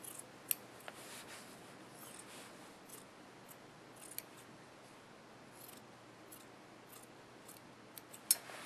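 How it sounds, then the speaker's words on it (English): Scissors snip slowly through scarf tassels, giving a few faint, sparse cuts and soft rubbing against quiet room noise. "if you just cut slow, you can eyeball about 1 inch all the way up"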